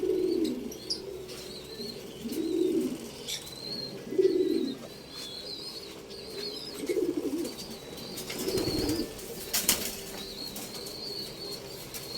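Racing pigeons coo in soft, low bursts, with wing flaps and faint chirps around them in a quiet outdoor setting.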